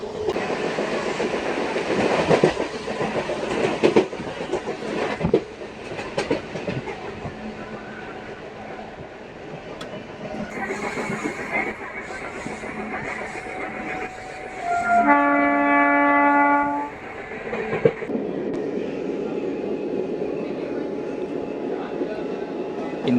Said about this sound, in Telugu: ఇప్పుడు వెళ్ళిన ట్రైన్ ఏదో తెలుసా, తిరుపతి నుంచి కొల్హాపూర్ వెళ్ళే హరిప్రియ ఎక్స్ప్రెస్.